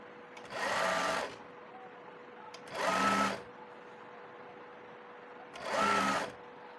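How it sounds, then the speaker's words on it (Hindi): Sewing machine stitching a folded half-inch hem on pajama fabric, three separate bursts of rapid whirring stitching with short quiet pauses between them, close by. "इस तरह से 1/2 इंच कपड़ा फोल्ड करते हुए पूरे के ऊपर सिलाई लगा लेंगे।"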